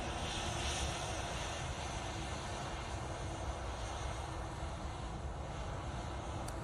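A Ryanair jet lines up and departs Manchester Airport for Alicante with a constant, fairly distant broadband engine roar. It holds steady for several seconds with no voices.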